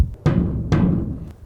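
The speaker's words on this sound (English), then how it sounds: "And then the bass drum." A rope tension bass drum booms twice, about half a second apart, each a deep, heavy thud with a lingering low resonance, close and fairly loud.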